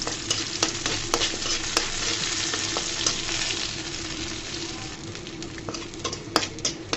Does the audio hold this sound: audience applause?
no